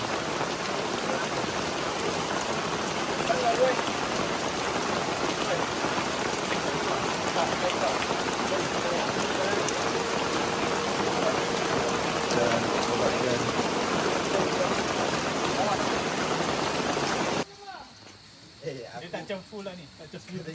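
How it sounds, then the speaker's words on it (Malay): Heavy rain pours steadily in a dense, loud hiss for most of the stretch, then cuts off abruptly and a voice begins speaking. "hujan pun turun dengan lebatnya"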